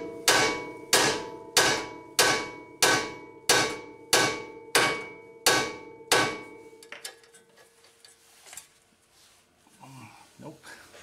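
Eleven loud, evenly spaced metallic hammer blows ring out one after another on a stuck Honda Accord wheel hub, followed by quieter clanks, shuffling and scattered noises.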